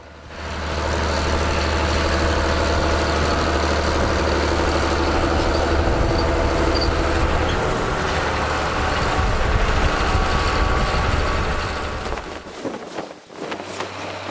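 John Deere 7720 tractor with a 160-horsepower diesel engine idling, a loud, steady low drone with a deep hum that holds for about twelve seconds before dipping briefly.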